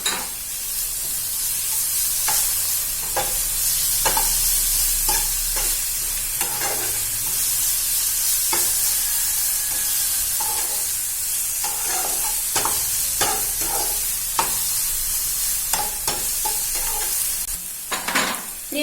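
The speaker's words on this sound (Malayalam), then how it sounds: "ഇനി നമുക്ക് ഇട്ടിട്ട് അതിന്റെ പച്ചമണം മാറുന്നത് വരെ ഒന്ന് വഴറ്റിക്കൊണ്ടിരിക്കണം" Crushed garlic, ginger and green chillies sautéed in a pan for Kerala-style fish biriyani, a constant close sizzle with repeated scraping stirs and spatula knocks against the pan.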